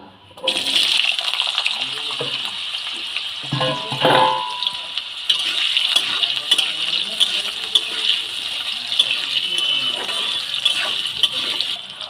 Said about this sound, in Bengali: একটা বড় সাইজের আলু ডুমো ডুমো করে কেটে রেখেছিলাম সেটা আমি তেলের মধ্যে দিয়ে ভেজে নেব